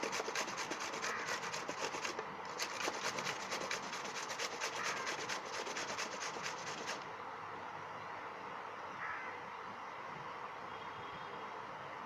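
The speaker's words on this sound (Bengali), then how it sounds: "আমি আমগুলোকে প্রথমে গুঁড়ো গুঁড়ো করে একেবারে ভাজি ভাজির মতো করে কেটে নিব।" Raw green mangoes being finely chopped with a knife, a rapid run of close, gritty scraping cuts that stops partway through, leaving a quieter room tone, with no speech.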